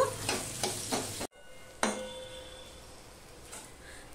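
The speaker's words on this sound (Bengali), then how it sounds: "এবার হাফ পেঁয়াজটা আমি ভেজে নেব।" Sliced medium onions fry in hot oil in a pan, a few rhythmic stirring scrapes over close sizzling, then a brief cut to a softer, steady sizzle with an occasional utensil tap.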